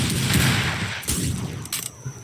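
Guycot chain carbine in a Roblox Wild West game firing in a rapid burst of close, sharp shots with a brief pause partway through, no talking.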